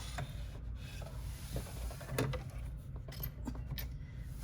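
An embroidery machine stitching down a slim cell bag, its needle running a quiet, steady rapid patter with faint rubbing and a few sharper ticks, heard alone at low level.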